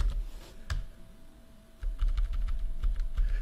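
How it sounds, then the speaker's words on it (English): Keys clatter on a computer keyboard as a sudo command and password are typed during a fresh system installation: a few isolated clicks, then a steadier run of close, crisp keystrokes. "if you just type sudo, and then you will need to enter your password"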